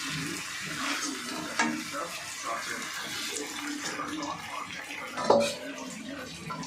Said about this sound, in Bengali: গরম জলটা আমি এবার দিয়ে দিচ্ছি